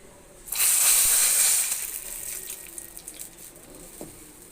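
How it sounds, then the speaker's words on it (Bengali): Fried garlic tempering poured into a pot of lentil dal with drumsticks gives a sudden loud hiss and sizzle that lasts about a second, then fades into a quieter, steady bubbling crackle. "এখন আমি এটা ডালের মধ্যে ঢেলে ফোড়ন দিয়ে দিব"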